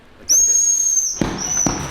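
A sharp, shrill referee whistle blast, held for nearly a second, followed by a couple of dull thuds close by.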